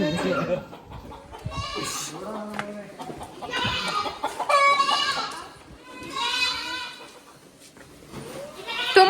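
A person's voice imitates a rooster crowing at a Sankranti festival gathering at a temple, with several drawn-out, wavering crow-like calls mixed with talking and background chatter.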